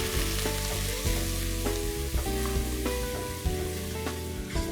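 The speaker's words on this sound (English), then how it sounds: "Once the oil is hot, I'm going to add some cumin seeds, cinnamon sticks, around 2 pieces, some slit green chilies, and onion paste." Cumin seeds, two cinnamon sticks, slit green chilies and onion paste sizzle steadily in hot oil for a Punjabi chole, a continuous close frying hiss with light stirring beneath a layer of tonal background music.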